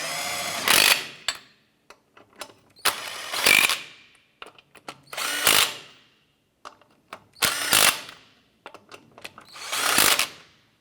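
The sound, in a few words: power tool snugging down wheel lug nuts on Chevy S10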